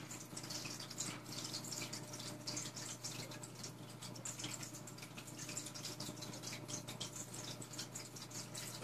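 Faint, continuous watery bubbling and trickling from a DIY aquarium CO2 system, a low steady fizz with no voices.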